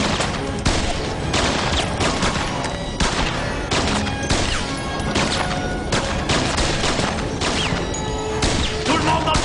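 Dense, loud gunfire from a shootout in a 2006 French-dubbed TV adventure film: a continuous barrage of overlapping shots and bursts with cracks and impacts, sustained for the whole stretch.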